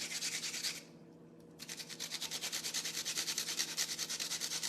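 An onion wedge is rubbed against a grater in quick, rhythmic rasping strokes, close and steady, with a short pause near the start before the scraping resumes.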